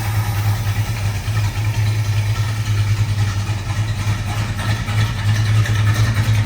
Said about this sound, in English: You can hear how rowdy that exhaust sounds with those high performance exhaust manifolds on there.